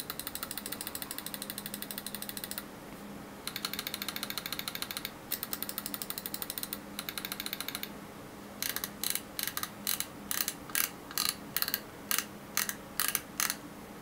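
Rapid sharp clicking from Zippy 60 mouse switches in a G Wolves HTS Plus 4K mouse in quick bursts, then a series of separate, evenly spaced louder clicks, close and dry with no voices.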